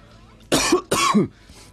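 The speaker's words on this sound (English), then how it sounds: "I'm coughing every 5 minutes" Two harsh coughs in quick succession, close and loud, with a brief pause between them.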